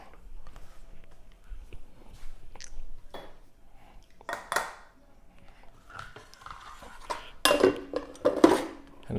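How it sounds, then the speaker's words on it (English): A pan and a baking dish are shifted on a stovetop, giving several clanking, clinking knocks of metal and glass cookware, the loudest bursts coming near the end, with no talking. "Get this pan out the way, this baking dish."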